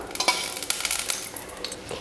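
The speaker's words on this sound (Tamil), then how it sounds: "இதே பாத்திரத்தில் தான் குழம்பு தாளிக்க போகிறேன். தாளிக்கிறதுக்கு எண்ணெய் ஊற்றிக்கலாம்." Oil heating in a pot for tempering a Tamil bitter gourd kuzhambu, a close, busy crackle and light sizzle with stirring and scraping against the metal pan, no voices.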